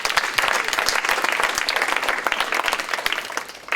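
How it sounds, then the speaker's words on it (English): Audience at a Cub Scout Blue & Gold banquet clapping for the parents, a steady round of many hands with distinct individual claps, moderately close and lasting the whole stretch. "So a hand clap for the parents,"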